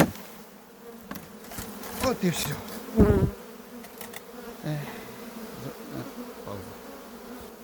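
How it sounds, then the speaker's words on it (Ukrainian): Honey bees buzz steadily in a dense, close hum around a hive as the nest is arranged for winter, with a brief voice and some knocks and handling noises mixed in. "ще дивіться, ще скільки бджоли"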